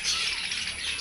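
Birds in an outdoor bird park chirp and tweet continuously in a dense, high-pitched chorus, close and fairly loud, with no voices.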